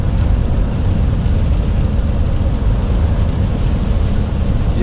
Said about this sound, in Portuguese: E o vento vem assim ainda, né? Trazendo o spray todo pra cima da gente.